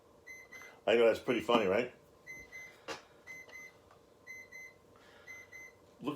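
An unidentified device beeps in an office, with short faint tonal beeps repeating through the clip, mostly after a burst of a man's speech near the start.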